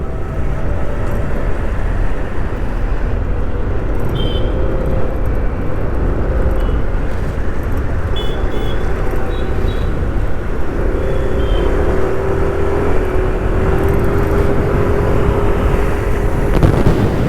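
A car on the highway heading out of Dwarka, with a loud, steady engine and road roar from inside the vehicle as it overtakes a truck. There are faint brief tones partway through, and no talking.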